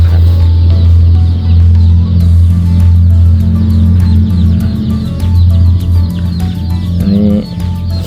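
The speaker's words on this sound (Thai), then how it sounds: "ตัวนี้จะเป็นไก่ไข่สายบันแท้นะครับ" Rhode Island Red laying hens on a farm cluck repeatedly and loudly close by, with overlapping calls over a low steady hum and no speech.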